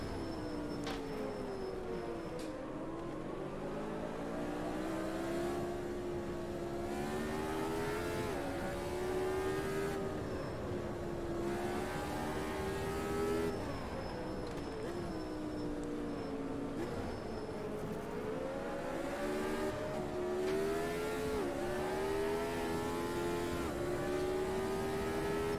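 Race car engines in the Automobilista 2 sim wail continuously at fairly low volume, rising and falling through repeated gear changes and revs as cars run close together, with no talking.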